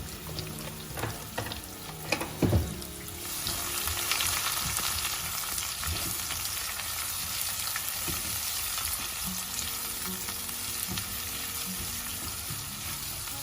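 Onions fry in a pan for achar chicken, a dense steady sizzle close by, preceded by a few utensil clatters and scrapes before the frying settles into a continuous hiss.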